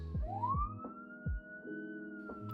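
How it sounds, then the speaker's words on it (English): A police siren effect rises in a sweeping wail and holds a sustained high tone, clean and isolated, with low electronic pulses underneath. "police sirens"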